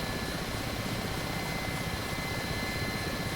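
Mi-8 helicopter in the DCS World flight simulator, its rotor and turbine noise forming a steady, dense broadband roar that holds at even loudness throughout, with no talk.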